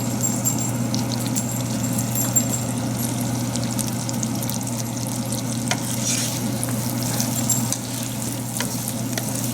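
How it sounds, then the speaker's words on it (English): Tomatoes fry in a pan over medium heat for Tuscan butter salmon, giving a steady, close sizzle with faint stirring scrapes and an occasional small pop throughout. "We'll cook till the tomatoes start bursting."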